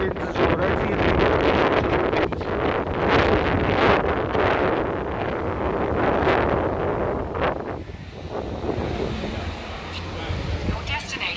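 Strong wind buffets the microphone outdoors, a loud continuous roar that eases slightly near the end, with someone talking over it at times.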